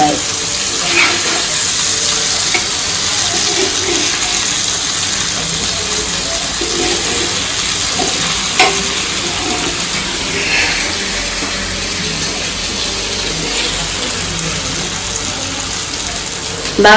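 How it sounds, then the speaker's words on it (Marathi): Bombil (Bombay duck) fish fry in hot oil in a pan, a loud continuous hissing sizzle that stays steady throughout with a few faint clinks. "बोमिन मध्ये टाकून म्हणजे तेलमध्ये टाकून फ्राय करायचं"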